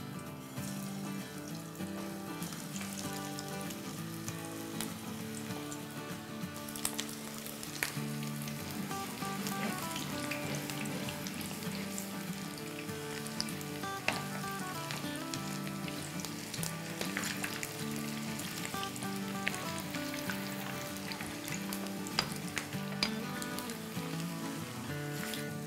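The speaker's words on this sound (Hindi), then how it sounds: "हम इसको फ्राई करते हैं।" Egg koftas for a Nargisi kofta curry sizzle and crackle steadily in hot oil, a dense, continuous close frying hiss that never stops, with no one talking over it.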